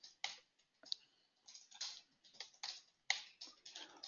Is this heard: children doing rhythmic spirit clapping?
no